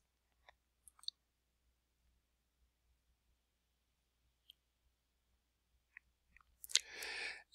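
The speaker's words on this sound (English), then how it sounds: "So we'll just click on save here." A computer mouse clicks a few times in a quiet room while saving a map in ArcMap GIS software, sparse sharp ticks separated by near silence, ending with a brief burst of louder rustling noise.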